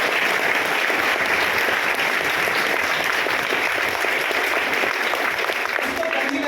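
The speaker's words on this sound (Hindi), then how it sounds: "जोरदार यीशु मसीह के लिए ताली बजाएं।" Church congregation at a Palm Sunday service clapping loudly and continuously for Jesus Christ, a dense, steady wall of applause filling the room.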